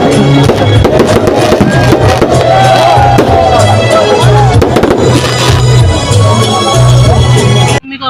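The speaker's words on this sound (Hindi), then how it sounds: "सबसे पहले आप ये फ्रीदिया पार्क में हमारी हुई थी आतिशबाजी" Fireworks at a Pakistan Independence Day celebration in Sahiwal burst in a dense, continuous barrage of loud crackling booms, with a crowd murmuring faintly underneath before it cuts off abruptly.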